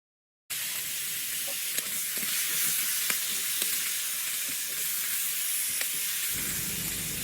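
Potatoes, pointed gourd and soft coconut fry in oil in a wok, giving a dense, loud, steady hiss and sizzle with a few small pops, close up and without any talking.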